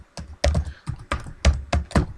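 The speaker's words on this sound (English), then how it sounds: "Here, I can go ahead and just type in the address I want this to send me to." Web address typed on a computer keyboard, a short burst of about eight distinct, close key clacks in an uneven rhythm, with no talking.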